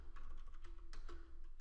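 Rapid typing on a computer keyboard, a steady run of close, crisp key clicks with a few louder strokes, heard alone without speech.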